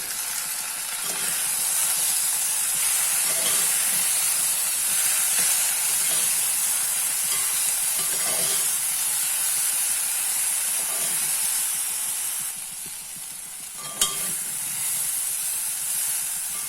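Jackfruit seed fry with chilli powder, sambar powder and asafoetida sizzles steadily in a pan as it is stirred, a continuous close hiss with soft scraping strokes and no talking.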